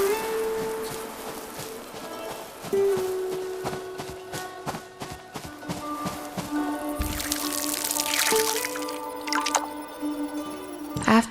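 Watering plants in the Fractured Blooms PC video game, squishy dripping and pouring water effects in quick succession, with soft background game music tones running throughout and no voices.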